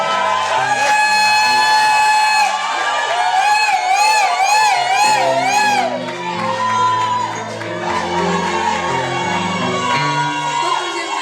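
Wedding guests cheer and acclaim at a church wedding ceremony, a loud, sustained crowd of voices with ululating whoops over rising, wavering shouts.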